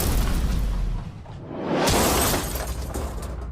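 A safe blown apart by an explosion: a sharp blast with a shattering burst and debris rushing outward, following a rumbling lead-in, then a lingering noisy tail.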